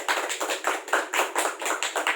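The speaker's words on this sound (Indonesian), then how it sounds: "Tepuk tangan untuk kita semua." Participants at a family development training session in Yogyakarta clapping hands in a brisk, regular rhythm of about five claps per second, near and crisp, with no talk.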